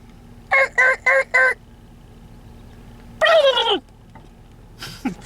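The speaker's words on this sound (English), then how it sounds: "Oh, he just gobbled." Wild turkey toms in a Minnesota spring field give a quick burst of four loud gobbles, then a single longer gobbling rattle, with faint stray calls at the end in quiet outdoor air.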